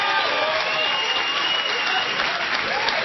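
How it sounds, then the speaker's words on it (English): A studio audience bursts into sustained applause, a dense, even clatter of many hands that runs steadily for a few seconds with no talk over it. "I have no idea what they're applauding"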